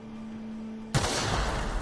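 A gunshot fired in the video game The Outer Worlds: silence, then one sudden loud blast that leaves a sustained ringing, roaring wash of noise, with no talk.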